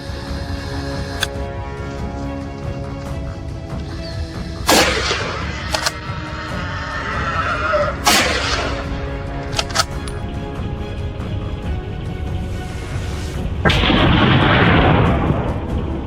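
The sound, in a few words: gunfire from hunters shooting feral hogs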